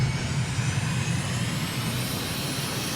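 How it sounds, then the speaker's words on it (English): Aircraft engine run-up on the runway at Honiara in a flight simulator game, a steady loud droning roar held without a break and with no talk. "Right, engine run up."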